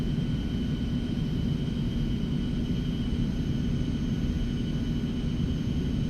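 Steady jet engine drone from an Eclipse 550 very light jet in the X-Plane 11 flight simulator, a constant rumbling hiss with a faint high whine, moderately quiet and unchanging throughout, with no talking.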